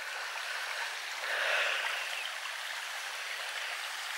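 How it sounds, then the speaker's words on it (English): Water flowing in a stream in a wooded combe on a countryside walk, a soft, continuous rushing hiss that swells briefly midway and stays faint and steady, with no talking. "I hope the camera's picking up the sound of the water."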